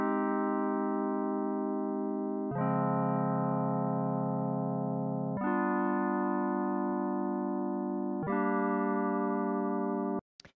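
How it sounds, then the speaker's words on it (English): A smooth synth pad plays four sustained major and minor seventh chords, each held about two to three seconds with clean changes between them, clear and alone, ending in a short cutoff. "the first layer here is this chord synth"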